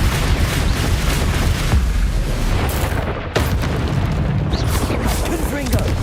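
The Confringo fire blast spell in the video game Hogwarts Legacy erupts in loud, close booms over a constant roar of combat noise, with a sharp burst partway through and a voice heard in the mix.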